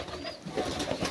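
A flock of pigeons murmurs and coos outdoors near drinking water amid greenery, a steady low burble from several birds at moderate distance.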